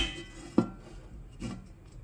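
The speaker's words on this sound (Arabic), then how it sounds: "ونغطي الصينية" A baking tray of grilled chicken being covered: a sharp metallic clank as a lid or cover meets the tray, followed by a softer rattle a moment later, close and clear with no talking.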